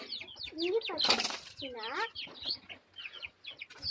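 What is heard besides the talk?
chicken clucking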